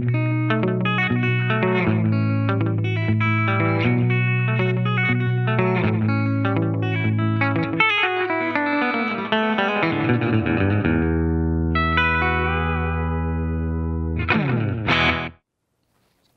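Synthesized tones played through an EarthQuaker Devices Dispatch Master digital delay and reverb pedal, each note repeating in echoing trails that cascade and overlap, ending abruptly after a final burst.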